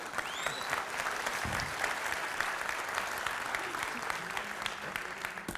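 Audience applause at a live comedy show at an internet summit, steady dense clapping throughout, fairly distant and moderate in level, with a brief whistle near the start.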